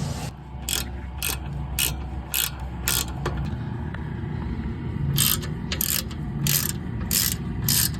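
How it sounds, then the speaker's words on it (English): A ratchet clicks in repeated bursts while T40 Torx caliper pins are removed from a Mercedes-Benz brake caliper at a wheel hub, each run of sharp close ratcheting separated by short pauses over a low background hum. "it is held on by a T40 torque, and we're gonna go ahead and remove that right now."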